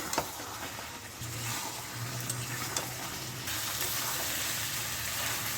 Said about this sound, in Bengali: আমি একটুখানি গরম জল দিলাম, না হলে আলুগুলো ভালো সেদ্ধ হবে।